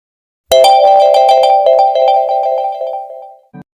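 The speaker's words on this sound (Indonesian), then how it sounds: "ternyata ponselnya berdering di atas meja" A mobile phone rings on a table with a loud, bright melodic ringtone of repeated tones for about three seconds, then cuts off, followed by a short thud.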